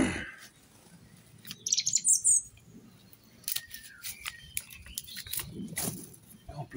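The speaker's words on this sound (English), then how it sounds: "Birds have got a lot to say here today." Small birds chirp and tweet around a garden where hydrangeas are being pruned, with scattered high calls, a brief quick trill, and soft rustling in a quiet outdoor setting.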